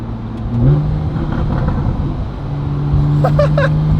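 A Porsche 911 991.1 Carrera 4S naturally aspirated flat-six with stock exhaust revs up and settles into a sustained mid-pitched growl, with a few brief tonal chirps near the end; no talking.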